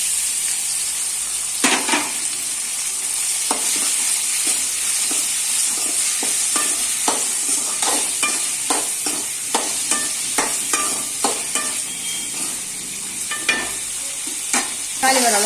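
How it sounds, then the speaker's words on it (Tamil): Onion and tomatoes frying in a pan for puli kulambu, a steady close sizzle broken by repeated scraping stirs of a spatula, with no one talking. "வதங்கினோட தக்காளி போட்டுக்கலாம்."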